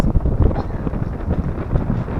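Strong outdoor wind buffets the microphone while a survival fire is being started, a loud, continuous low roar with gusty surges throughout.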